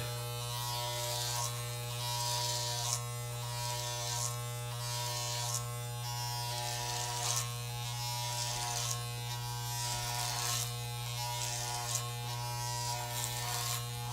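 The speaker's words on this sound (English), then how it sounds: "So we're going to cut up to that line, like this part of the clipper, where the clipper meets the blade" Electric hair clippers buzz steadily and close up while trimming a dog's coat, a continuous droning hum that rises and dips slightly as the blade moves through the fur.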